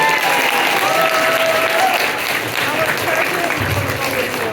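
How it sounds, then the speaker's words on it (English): Delegates at a political convention clap loudly and continuously for elected officials, a thick wash of applause with voices mixed in underneath. "Can you give them a big round of applause?"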